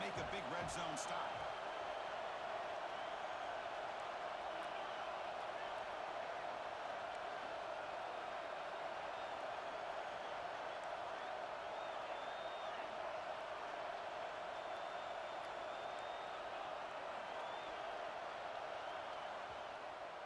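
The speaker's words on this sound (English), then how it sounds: "This crowd is trying to inspire this defense to make a big red zone stop." Stadium crowd noise in EA Sports College Football 26, a steady, dense roar filling the whole stretch at an even level as fans try to rally the defense for a red zone stop against LSU.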